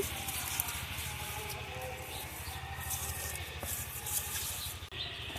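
Meat curry with radish and eggplant being stir-fried in a pan at home, giving a steady, close scraping and sizzling hiss that continues without a break.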